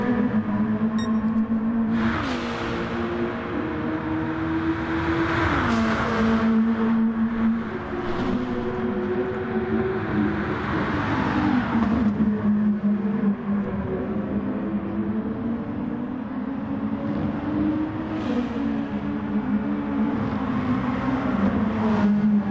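Nissan and Lexus race cars in a sim racing game at Suzuka drone continuously, with engine pitch rising and falling through gear changes and corners, loud and unbroken.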